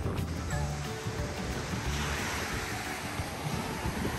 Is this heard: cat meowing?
no